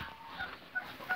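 Muscovy ducks in a barn give soft, brief low calls, a few faint hisses and mutters close by against a quiet background with no talking.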